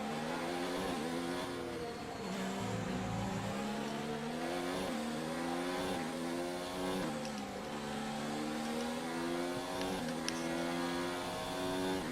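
Williams Formula 1 race car engine screaming through gear shifts in the F1 2019 racing game, a loud continuous high-revving whine rising and dropping with each upshift and downshift, with no talk over it.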